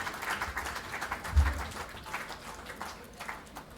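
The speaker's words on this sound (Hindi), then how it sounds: "जोरदार तालियों से इनका स्वागत कीजिए।" Moderate applause greets a guest called onto the stage in a hall at a literary award ceremony, a fairly soft, continuous patter of many hands that gradually thins out.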